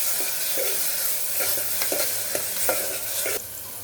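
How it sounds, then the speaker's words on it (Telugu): Two small tomatoes are stirred into chicken curry in a pan over a steady sizzle, with a spoon scraping and knocking in an uneven rhythm; no one talks. "2 స్మాల్ టమాటో బాగా మిక్స్ చేసుకోవాలి"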